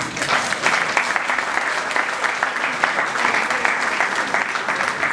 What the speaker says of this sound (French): Est-ce que vous pouvez quand même applaudir pour vous-même?